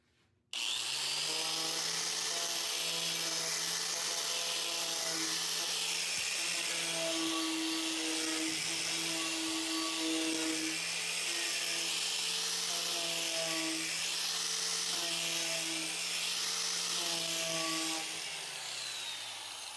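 An angle grinder deburrs a metal edge in a steady, sustained whine that holds for nearly twenty seconds and wavers slightly as the disc meets the metal, close and alone with no voices.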